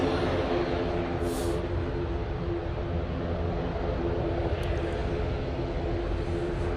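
A propeller airliner in ex-Avianca livery departs from Manchester Airport bound for Guernsey, its steady engine drone and broadband roar continuous and fairly distant throughout, with no talk.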